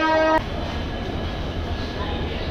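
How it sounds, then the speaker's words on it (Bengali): A train pulls into platform 3 at Santragachi railway station: a short, loud horn blast at the start, then a steady, close rumble of the rolling carriages throughout. "ট্রেন এসে ঢুকেছে আমাদের 3 নম্বর প্ল্যাটফর্মে"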